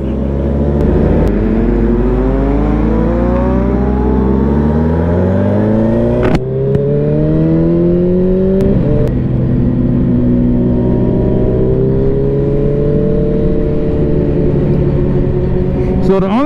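Several motorcycles ride together at night, engines droning loud and close with repeated rising and falling revs as they accelerate and shift, steady road and wind noise underneath throughout.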